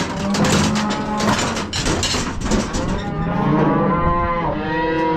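Cattle moo loudly and repeatedly in a pen as calves are herded for branding, several overlapping bellows close by with faint clanking gate or chute noise underneath.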